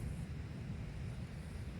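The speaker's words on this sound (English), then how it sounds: "wow, it has been windy." Steady, low rumbling wind from Storm Ashley buffets the microphone at a wild camp by Blea Tarn, a continuous roar with no voices.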